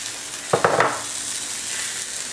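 Gnocchi lightly coated in olive oil fry in a large pan, a steady soft sizzle with a few brief louder bursts of stirring and movement near the start.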